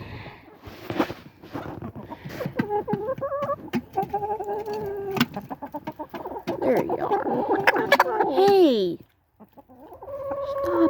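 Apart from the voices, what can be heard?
chickens clucking while being fed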